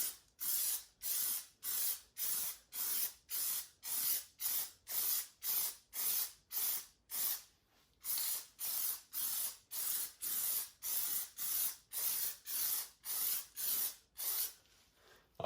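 Plastidip is sprayed as a heavier second coat onto 5th gen Camaro wheels in a long series of short, evenly spaced aerosol hisses, about twenty bursts with brief gaps between them, close and fairly loud.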